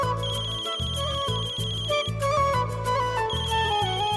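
A phone ringtone plays as a repeating electronic melody, steady and moderately loud, with no one talking over it.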